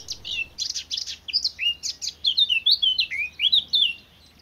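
A black redstart sings from a house rooftop, a rapid run of bright, scratchy chirps and whistled notes in quick phrases, clear and close against a quiet background, without any voices.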